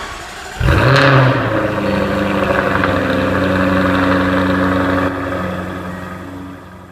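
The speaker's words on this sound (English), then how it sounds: "let's get into the car, start it up, and see how it sounds" A 2015 Jaguar F-Type R Coupe with its supercharged 5-liter V8 fires up with a sharp, loud start flare. It settles into a deep, steady idle that drops slightly near the end.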